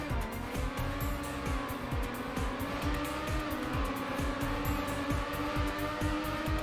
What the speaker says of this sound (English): I'm gonna try and drift it up a little bit